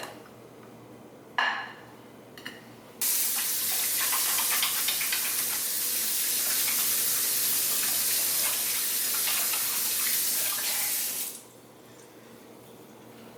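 Hands washed under a running kitchen tap: a couple of brief water splashes, then a steady loud stream for about eight seconds that cuts off, with one short word spoken.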